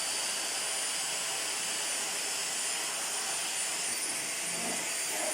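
Kitfort KT-523-3 vacuum cleaner running at home during daily cleaning, a steady loud high-pitched whine and airflow roar held constant throughout without speech.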